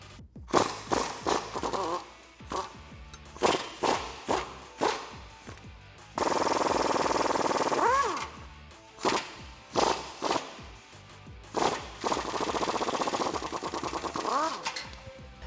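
An impact wrench with a 16mm swivel socket on a 15-inch extension hammers in repeated short bursts, removing shock bolts on a Jeep Wrangler JK, loud and close, with one longer continuous run.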